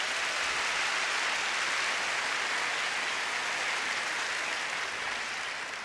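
Sustained applause from a large audience at a school convocation for Tyler ISD, a dense, steady wash of clapping filling the room with no speech over it.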